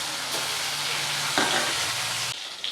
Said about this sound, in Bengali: বাকি মাছটা ভেজে নেব।